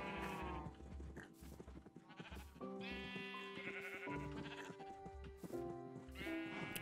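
Several Minecraft sheep bleat repeatedly in the video game, loud overlapping calls in quick succession with no talk.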